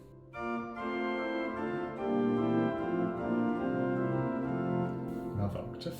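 Pipe organ in the Bovenkerk, Kampen, playing on its Rugwerk with an octave stop added: a full, sustained chorded passage with rich harmonics, steady and loud throughout, ending with a few brief clicks.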